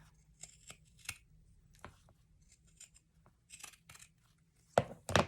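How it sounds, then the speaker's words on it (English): Pinking shears cut through cotton patchwork fabric for a small sewing ornament, giving a series of close, crisp snipping crunches at an uneven pace with quiet pauses between cuts. "So I'm going to cut this out with my pinking shears."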